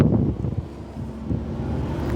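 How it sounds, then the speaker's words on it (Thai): Strong wind of a winter storm buffeting a house and its gate, a rough, continuous roar of gusts close against the microphone. "โอ้ลมมาดิ"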